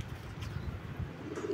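A Kaldum high-flyer pigeon gives low, soft cooing murmurs close by, a muffled throaty rumble with no voices over it.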